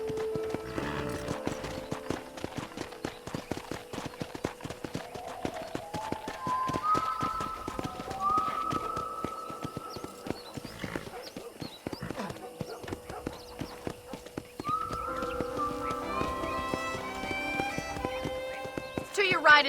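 Rhythmic hoof clip-clops of a trotting horse in the video game Red Dead Redemption, with a loud whinny partway through, over background music and a talking voice.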